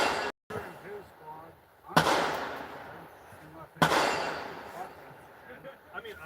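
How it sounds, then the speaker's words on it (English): Gunfire at an outdoor shooting range as someone shoots steel targets somewhere behind, two sharp distant cracks about two seconds apart with ringing tails, beneath the speaker's talk. "somebody's shooting steel in the back on the range"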